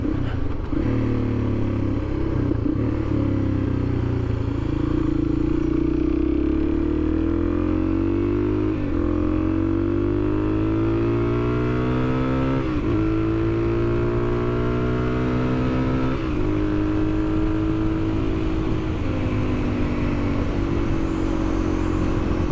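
A 2022 Suzuki DRZ400 single-cylinder motorcycle engine drones steadily throughout the ride, its pitch rising and falling through gear changes and a turn, loud and close with wind and road noise.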